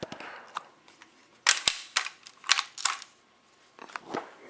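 A Daisy Powerline 990 air gun is worked and cocked, giving a series of sharp mechanical clicks and clacks close by, several loud snaps bunched in the middle with softer handling noises around them.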